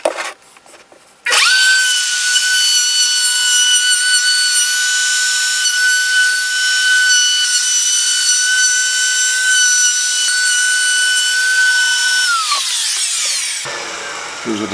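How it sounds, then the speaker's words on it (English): A wood router cuts a 3/8 round-over profile along the edge of a flip-top tool stand, a loud steady high whine that holds for about eleven seconds and then spins down. "what I'll do next is to route a 3/8 round over around the edge of that to soften it up"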